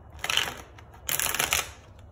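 Tarot cards shuffled in two close, crisp bursts of riffling, a short papery flurry, a brief pause, then a second longer flurry, with no talking.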